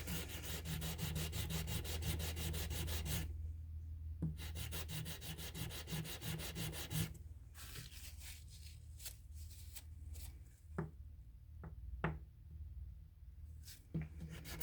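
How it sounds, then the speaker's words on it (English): Steady scratchy rubbing of sandpaper on a cast letter, continuous at first, then broken into short strokes with occasional taps and pauses. "I'm sanding the J down."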